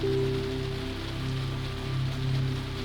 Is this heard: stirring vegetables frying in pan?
no